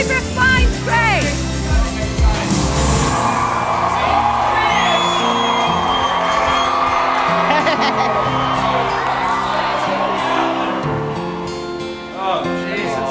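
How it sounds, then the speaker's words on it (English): A studio crowd at Celebrity Big Brother UK cheers, whoops and yells loudly and continuously, with rising shrieks and high whistling whoops layered over the roar, which fades slightly toward the end. "they're cheering and they're loving him"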